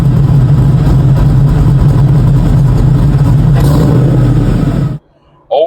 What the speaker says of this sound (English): Old Cotton is a 2004 regular cab short bed zero option work truck